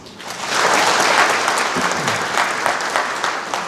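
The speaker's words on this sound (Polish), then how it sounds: "Gorące brawa." A hall audience breaks into warm applause for guests connected with a new January Uprising film, clapping swelling quickly and staying thick and even to the end.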